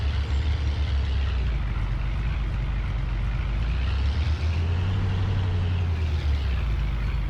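A pickup truck drives across a field collecting small hay bales, its engine a steady low rumble with faint rattling that rises and eases slightly as it moves, with no talking.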